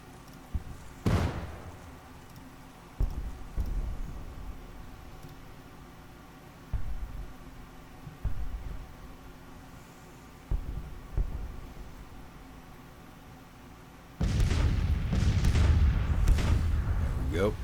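Artillery booms in Grand Tactician: The Civil War: single heavy cannon shots land every second or two, muffled and somewhat distant, before a loud, sustained barrage of overlapping blasts takes over at the end.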